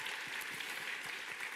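Dense, continuous audience applause for the musical actors at the Yegreen Musical Awards ceremony, a steady close wash of many hands clapping with no talk over it.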